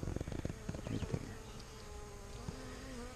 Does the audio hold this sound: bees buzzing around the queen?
yes